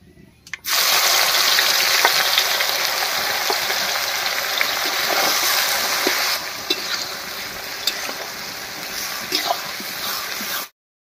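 Chopped onion hits hot oil already tempered with dried red chilli, whole cumin and whole garam masala and sizzles loudly and continuously, with occasional stirring scrapes, close up, then cuts off abruptly.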